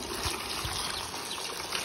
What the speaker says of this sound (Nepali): दारामा ल्याएर मजाले पखालिरहेको छु।